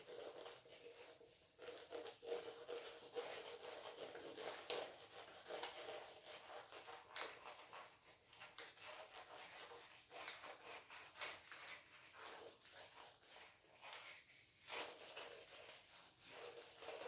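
A board is rubbed to erase writing: a faint, continuous scratchy rubbing with uneven strokes, heard alone at low level.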